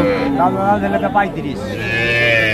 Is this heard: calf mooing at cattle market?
yes